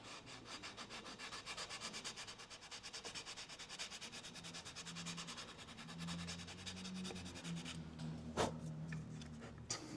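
Steady, rhythmic rubbing of sandpaper against guitar frets, repeated back-and-forth strokes close up, with a low hum underneath and a brief knock near the end.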